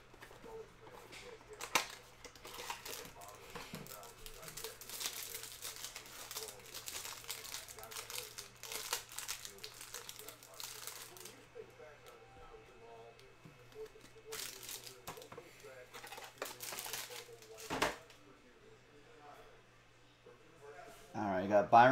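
Football trading card pack wrappers are ripped open and crinkled up close, bursts of crackling foil and tearing plastic coming in irregular clusters, with a person talking quietly between and over them.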